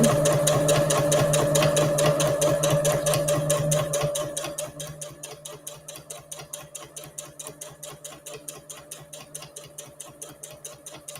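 A sewing machine topstitches along a fabric edge of a reusable gift bag with variegated thread, first a loud, fast steady whirr, then a slower, softer run of evenly spaced rhythmic stitch clicks.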